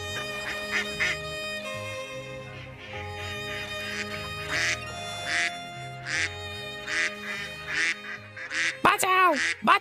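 Cartoon ducks quack in a string of loud, nasal, honking calls over a musical background, growing busier and louder toward the end.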